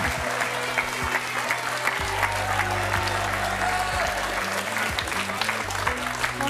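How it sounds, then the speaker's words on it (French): Studio audience applauding on a French TV talent show set, a steady dense wash of clapping filling the space, with a low hum and faint voices beneath. "Je vous demande d'applaudir Henri."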